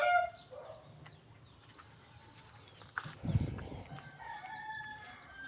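A caged chicken calls briefly with a rooster-like crow or cluck, a short burst in an otherwise quiet outdoor setting with faint bird chirps around it.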